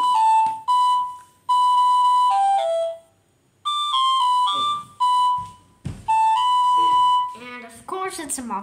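A self-composed ringtone melody plays on a Nokia 1600 phone as a string of bright, pure electronic beeps and held notes, with short pauses between phrases and a quicker run of notes at the end.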